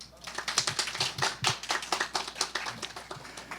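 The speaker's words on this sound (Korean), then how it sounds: "주민자치와 평생학습을 말하다를 여러분들의 힘찬 박수로 시작하도록 하겠습니다" A live audience claps to open a 2020 lifelong-learning forum in Uijeongbu, a fairly quiet patter of applause lasting a few seconds.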